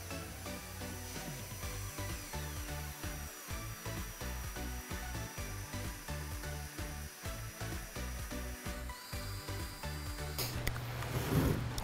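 A drill driving a paddle mixer through resin for countertop resurfacing, a steady continuous whirring drone with rhythmic churning, ending in a brief louder rattle.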